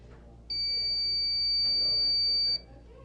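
A fire alarm horn sounds from a fire alarm panel as one steady, loud electronic tone lasting about two seconds, starting and cutting off abruptly. A faint voice can be heard underneath it.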